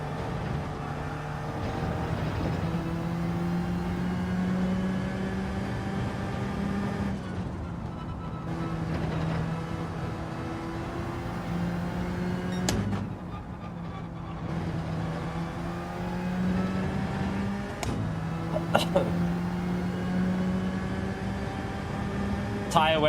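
A Corvette GR.4 race car engine in Gran Turismo 7 drones and rises through the gears, holding steady tones that climb, dip at each shift and climb again, with someone talking faintly over it.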